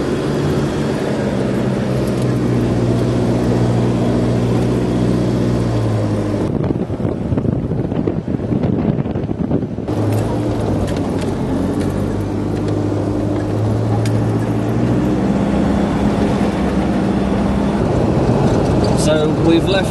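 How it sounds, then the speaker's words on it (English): A vehicle's engine drones steadily while driving over desert sand dunes at Erg Chegaga, Morocco, with wind buffeting the microphone and a speaking voice over much of it. "Driving through sand is quite exciting"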